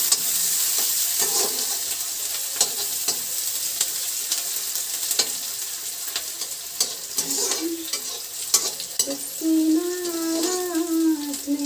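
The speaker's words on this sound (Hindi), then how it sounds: "और अब डालेंगे इसमें प्याज, राई को बहुत ज़्यादा जलाना नहीं है" Onions fry and get stirred in a pan with mustard seeds, a bright continuous sizzle broken by scraping stir strokes, with a voice briefly talking near the end.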